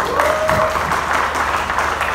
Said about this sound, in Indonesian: Dan tepuk tangan buat KMPI yang sudah melaksanakan acara ini sebagai bahan aktualisasi kita sebagai pemuda.